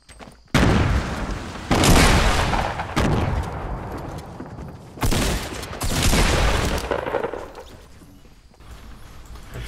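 Rocket launcher blasts and gunfire in a video game battle: several heavy booming explosions land in quick succession, loud and close, with rumbling tails and scattered shots between them.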